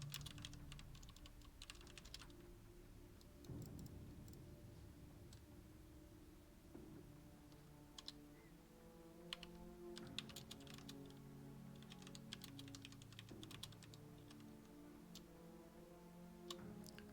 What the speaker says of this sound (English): Apologies, I was typing.